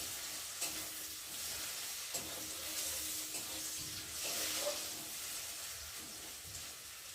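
Garlic tempering fried in oil for red lentil dal, sizzling with a continuous hiss and occasional stirring scrapes in a home kitchen, no talking.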